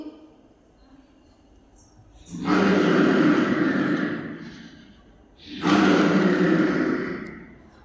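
A student's voice imitates a lion's roar: two long, breathy, rumbling roars, each swelling and then fading, with a pause between them.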